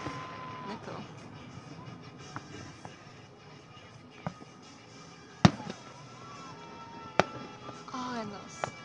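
Fireworks at Shawano, distant crackles and a few sharp booming bursts spread across the stretch, with people talking and traffic noise in the background.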